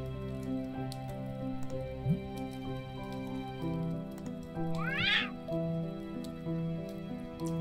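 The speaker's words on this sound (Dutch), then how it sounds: "Die kat wil ook graag zout." A cat in the video game Children of Silentown gives a short, faint meow over a steady droning game soundtrack.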